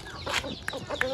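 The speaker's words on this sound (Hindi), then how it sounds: "ये मुर्गा है, उधर मुर्गा भी खुला हुआ है।" A few short clucks from a Shamo rooster, close by and fairly quiet, with soft background noise.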